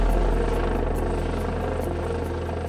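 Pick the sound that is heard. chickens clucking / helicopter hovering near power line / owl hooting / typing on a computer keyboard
helicopter hovering near power line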